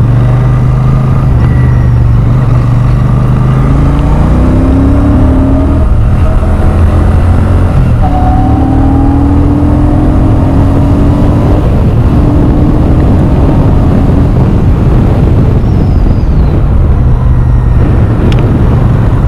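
A Royal Enfield Super Meteor 650 motorcycle's steady, loud engine drone rises and falls in pitch as it revs on a test ride, heavy wind rumble throughout, no talking.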